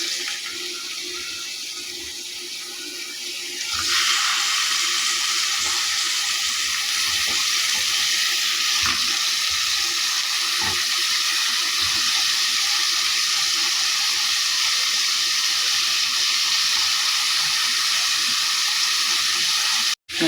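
Squash sizzling in a pan while being stirred for a Filipino squash and eggplant sauté: a steady, loud hiss that jumps up when the squash goes in and continues unbroken, close by, with faint clinks.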